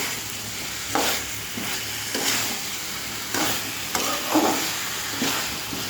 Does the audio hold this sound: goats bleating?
no